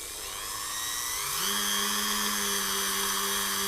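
A variable-speed Dremel rotary tool spins at about 15,000 RPM, its high, steady whine rising in pitch as it comes up to speed, then holding constant and close.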